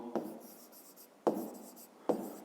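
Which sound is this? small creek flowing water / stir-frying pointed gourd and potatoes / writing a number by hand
writing a number by hand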